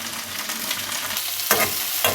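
Chopped tomatoes and garlic fry in a pan for hilsa fish bhuna, giving a close, steady sizzle broken by a couple of scraping stirs near the end.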